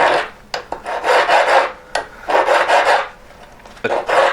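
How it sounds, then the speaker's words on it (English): A hand file rasps back and forth on a metal ring in about three bursts of rough scraping strokes, close and clear with short pauses between. "taking the weight off my file, you can probably tell how it sounds"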